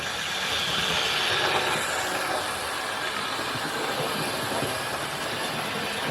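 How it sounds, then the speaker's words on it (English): A Hornby Schools Class model locomotive, R2144 Eastbourne, runs around a model railway track with a continuous close-up whirring motor and faint rhythmic wheel clatter at a steady level throughout. "as you see, it's going around the track very, very well"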